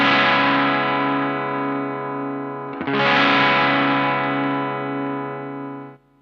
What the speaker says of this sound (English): Let's see how far we can clean up the sound with the Germanium Fuzz Face.